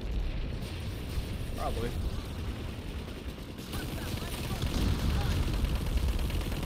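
A Spitfire turret in Planetside 2 fires, giving a dense clatter of rapid shots amid general battle noise, with a voice speaking briefly over it.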